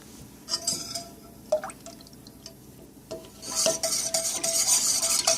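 Melted wax with added oils being stirred in a container, a soft scraping swish with light glassy clinks of a utensil against the sides, growing busier and louder toward the end, no voices.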